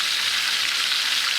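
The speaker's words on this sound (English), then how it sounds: "Okay, so the pork chops is frying." Pork chops fry in canola oil on medium-high heat, giving a steady, close, bright sizzling hiss that holds even throughout, with no talking.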